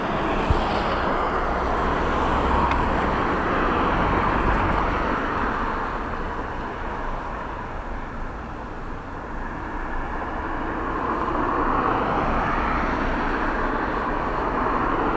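An ATR turboprop airliner on an early missed approach at Dublin Airport drones as a steady, fairly loud broadband rumble that rises and eases slightly throughout.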